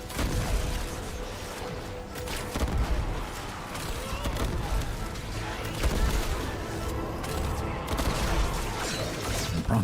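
Turret gunfire in Warframe rattles on for several seconds, dense bursts of shots over a mechanical clatter and heavy low rumble, with a voice faintly in the mix.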